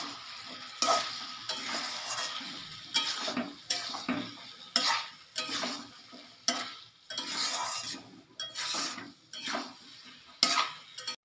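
Spiced dal, spinach and chicken stir-fried together in a pan with salt, chilli and turmeric, a soft sizzle under repeated scraping and clinking of a metal spoon against the pan in uneven strokes, close, no talking.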